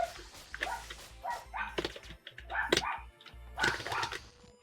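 Dogs bark loudly in short, repeated bursts, several sharp yelps and woofs coming close together indoors, with a low hum underneath.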